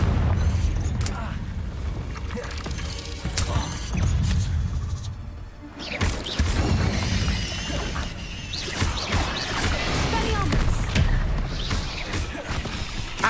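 Repeated Confringo fire-spell blasts from Hogwarts Legacy boom and crash through dense, continuous game noise, with a short lull near the midpoint before the explosions resume.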